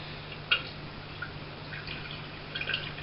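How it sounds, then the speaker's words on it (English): Liquid from a one-gallon home-brew beer vessel drips into a pint glass: a soft, sparse drip near the start and a few more small drips later over a quiet, steady hiss. "The water running out, just run that into a different vessel"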